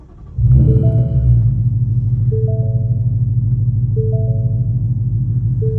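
A Ford Mustang GT with the 5.0 V8 and 10-speed fires up with a sharp crank, then settles into a deep, steady idle rumble, loud and close, with no talking over it.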